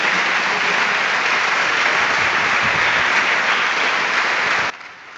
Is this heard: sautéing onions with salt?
no